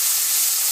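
Onions darkening in hot oil for a curry base, sizzling as a steady, loud, bright hiss with no voices.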